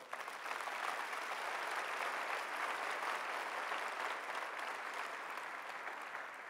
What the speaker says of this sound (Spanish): Dale un fuerte aplauso al Señor por eso.